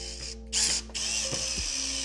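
Screws being driven into the large top piece of a three-drawer farmhouse nightstand give a close ratcheting, clicking mechanical whir with a few sharp knocks over about two seconds.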